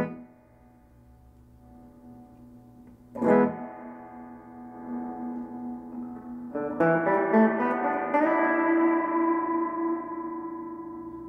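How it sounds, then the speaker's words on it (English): Sustained electric guitar chords through a Studio 15R amplifier ring out with a washy reverb tail, a second strum swelling louder and lingering with echoing decay. "The reverb control allows you to add an echo effect to the guitar."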